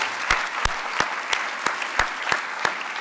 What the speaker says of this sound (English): So a round of applause for our staff at RSCK.